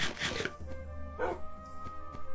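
A dog barks in the Minecraft video game, a short burst of yips at the start followed by another brief bark, faint and set against a quiet game background with a steady low hum.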